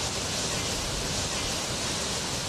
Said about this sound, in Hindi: कोटा बैराज नाम के बांध में इतना पानी भरा कि गेट खोलने पड़े और शोर के साथ साथ बांध का पानी निकल आया